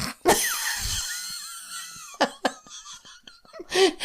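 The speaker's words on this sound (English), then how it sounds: "And then the little wheeze that's in there." A sharp cough is followed by a long, whistling wheeze on the breath, then a few short raspy coughs and breaths, close and loud.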